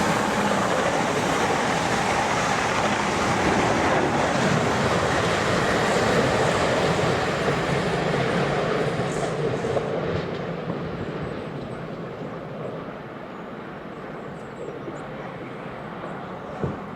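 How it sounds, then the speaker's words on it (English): A fast South Western Railway train rushing past in a steady, loud broadband roar that holds for several seconds and then gradually fades. "It's one of these fast trains."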